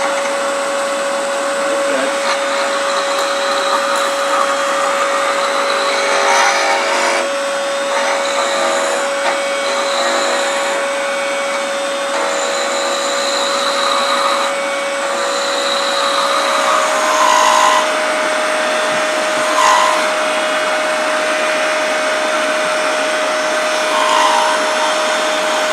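Wood lathe spinning a wooden pull toy at high speed with light cuts, a steady whirring motor whine with faint scraping of the tool against the wood, continuous and close.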